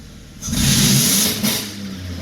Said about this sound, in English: So now we have exhaust noise, and I'm going to pin the throttle and see what happens